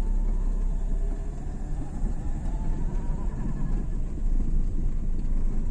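A car engine running steadily while the car slowly reverses as the clutch is eased out, a continuous low rumble with wind noise, fairly loud and unbroken throughout.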